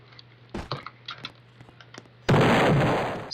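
A gunshot fired in a Roblox Studio game at an anchored build, a sharp loud blast that rings out and slowly decays after a few faint clicks and taps.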